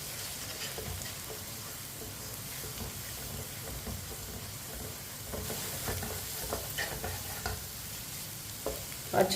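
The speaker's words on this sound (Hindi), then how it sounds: "3 अंडे डाल लेंगे। अच्छी तरह मिक्स कर लेंगे।" Three eggs stirred and frying in a pan with onion for pyaz ki sabzi, a soft continuous sizzle with scraping stir strokes, quiet and close, no voices.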